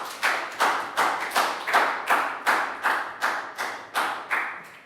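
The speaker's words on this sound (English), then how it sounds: "Big round of applause for Chu." A classroom round of applause for a student: about a dozen distinct, evenly spaced claps at close range, each a sharp smack with a short tail, forming a steady rhythmic beat with no talking.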